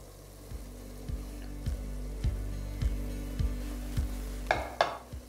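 Soaked spice paste hitting frying onions for a pressure-cooker mutton curry, a steady low sizzle with a spoon scraping the pot in regular strokes and a couple of sharper clinks near the end.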